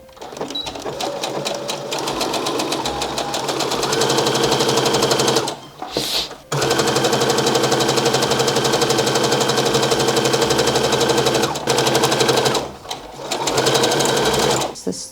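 A sewing machine stitching a shirred top seam back and forward, a loud rapid mechanical chatter running nearly continuously up close, with two short pauses as the direction changes.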